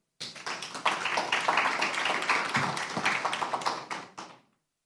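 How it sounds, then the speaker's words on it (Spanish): An audience at an international law congress panel on electoral rules bursts into steady, close handclapping that continues evenly for about four seconds and then stops abruptly, with no talking over it. "para quien pido un fuerte aplauso"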